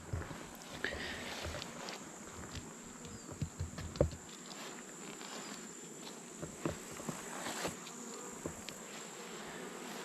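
Honeybees flying around a beehive while honey is being harvested, giving a steady close buzzing drone with passing insects and a few soft taps and rustles.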